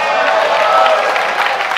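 Crowd of audience members applauding and cheering, a steady, loud wash of clapping held for a couple of seconds without a break.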